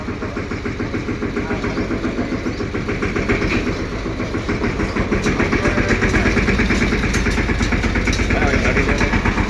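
A tractor engine idles with a steady, rapid rhythmic chug that stays loud and close throughout, gradually growing slightly louder.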